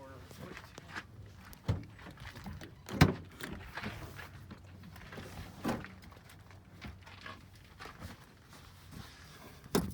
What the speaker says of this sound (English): Open that back door.